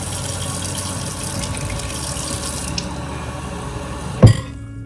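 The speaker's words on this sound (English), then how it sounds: "And then I also do water over that because it is a concentrate." Water poured from a tap or jug over cold brew coffee concentrate, a steady close pour and gush running throughout, ending with a brief louder splash near the end.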